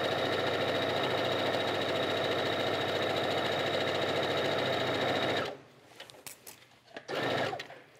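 A sewing machine stitches through felted wool sweater fabric, running loud and steady at close range for about five seconds before it stops abruptly, leaving a few soft handling noises and short bursts.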